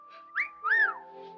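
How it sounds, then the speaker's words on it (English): A person whistles two short rising-and-falling notes, a brief chirp followed by a longer swooping tone, close and clear over a faint steady hum. "Whistle so I'll know where you are."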